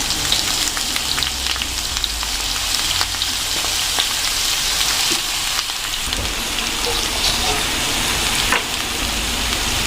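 Betho greens hiss and crackle as they fry with fried eggplant and potato in an oily pan, a continuous, fairly loud sizzle with faint scraping and stirring throughout.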